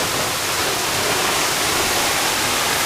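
Rushing water at Tada Waterfall in Cambodia: a dense, constant roar that stays loud and even, with no other sounds over it.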